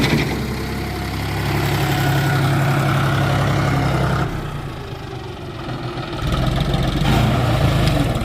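A tractor loader's engine idles loudly and close by, a constant low drone that eases briefly in the middle before settling back to full strength, with no one speaking.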